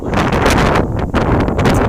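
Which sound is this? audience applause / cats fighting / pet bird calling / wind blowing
wind blowing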